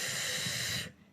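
A class of children imitates the wind together in a classroom science lesson, making one loud, close, breathy whoosh that holds for nearly a second and then cuts off abruptly.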